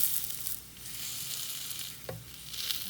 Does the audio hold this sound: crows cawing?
no